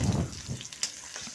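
Onions dropped into hot mustard oil in a kadhai give a brief soft sizzle and crackle, close and fairly quiet, lasting just over a second.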